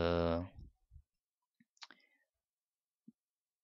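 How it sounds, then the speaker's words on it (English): A computer mouse clicks a few times, quietly and in isolation, after a short burst of speech, leaving near silence between the sparse clicks. "let's click OK"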